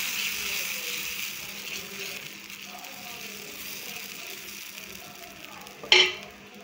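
Chilli dosa batter sizzles on a hot pan with a soft, continuous hiss, and a sharp utensil clank near the end.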